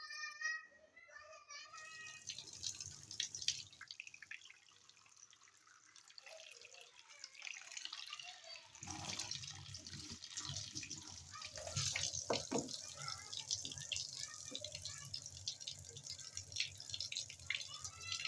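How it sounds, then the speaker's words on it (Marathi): Indian gooseberries (amla) are rinsed under a running tap, with a continuous splash of water and occasional drips, fairly close, while a voice speaks faintly in the background. "आता सध्या मी हे आवळे धुवून घेते"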